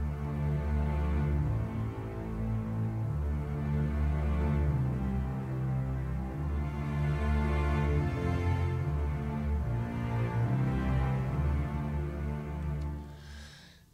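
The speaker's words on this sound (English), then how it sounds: "Together with the celli and without the percussion, it sounds like this." Double basses and cellos play a cinematic adventure action track with no percussion: continuous, full sustained low string phrases that swell and recede for about fourteen seconds before fading at the end.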